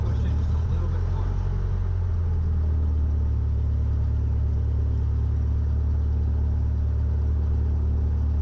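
A training aircraft's engine throttles up during flight, producing a steady, loud low rumbling drone that continues without break, with radio-style talk heard intermittently over it.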